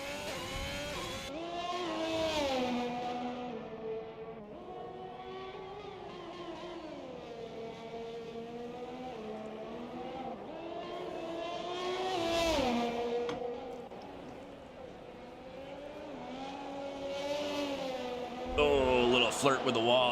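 A Haas Formula One car in a racing video game on the Singapore circuit, its engine howling steadily through upshifts and downshifts, pitch sweeping up and down through corners, with a commentator talking over it.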